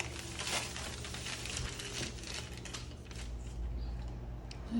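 A paper sewing pattern for a back torso sloper being folded by hand, giving soft, steady crinkling and rustling close by with faint mechanical creaks, and no talking.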